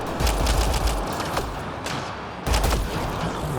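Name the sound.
turret firing in the video game Mass Effect: Andromeda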